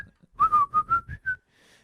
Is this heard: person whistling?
yes